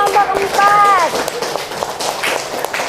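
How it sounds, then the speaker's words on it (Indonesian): A classroom group claps after a school presentation, a burst of quick, dense hand claps close by, overlapping with speech and chatter. "Tepuk tangan dulu untuk kelompok"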